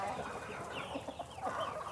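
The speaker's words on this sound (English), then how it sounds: "Would it be a good idea to have a rooster eat out of my hand?" Rooster clucking on a small farm, soft repeated clucks and short calls close by over a busy, noisy outdoor background.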